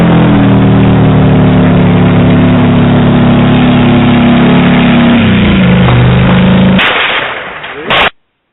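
A Ukrainian tank's loud, steady diesel engine rumbles up close, idling heavily with a deep throb, then cuts out abruptly near the end after a brief rev.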